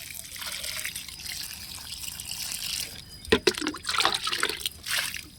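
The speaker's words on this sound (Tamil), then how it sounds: "நடவு செஞ்ச செடிகளுக்கெல்லாம் தண்ணி ஊற்றி விட்டுக்கலாம்" Water is poured onto newly planted chilli and tomato seedlings in grow bags, a soft trickle that turns into louder splashing and gurgling bursts toward the end, close by with no talking.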